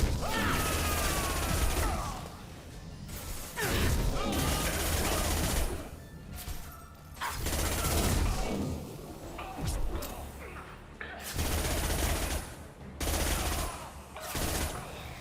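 In Mass Effect 2 combat, a Pyro enemy explodes and a melee crunch lands amid dense, loud bursts of gunfire and crashing impacts. The bursts come in several waves separated by brief dips.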